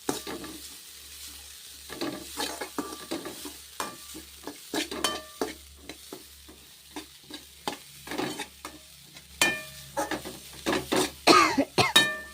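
Grated coconut being stirred and fried in a pan for coconut rice, with a soft sizzle under repeated sharp scraping strokes of a spoon, close up, and a cough near the end.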